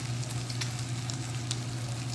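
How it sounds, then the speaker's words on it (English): Oil and fat sizzling steadily in a frying pan before salmon goes in, a continuous close crackling hiss with small pops and no speech. "look at a decent amount of fat in the pan here"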